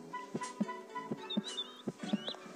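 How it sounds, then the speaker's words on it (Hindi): Heartbeat sound effect in the video game Virtual Mom 3D: evenly spaced low double thumps repeating about four times, over a faint game hum with soft chirps. "दिल धड़कने की आवाज़ें आ रही है मुझे"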